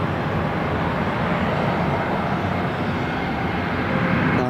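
An airliner at Tenerife South Airport roars steadily and loudly throughout, a dense, unbroken jet-engine rush with no voices over it.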